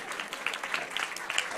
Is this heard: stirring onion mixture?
no